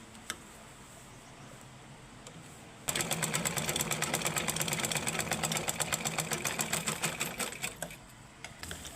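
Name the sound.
sewing machine stitching a zipper onto fabric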